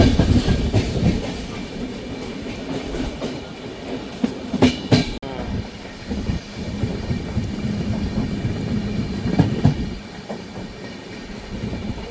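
A Mysuru to Arsikere intercity passenger train in India rumbles along the tracks with a continuous heavy roar and rattling carriages, plus a few sharp clanks, heard from on board.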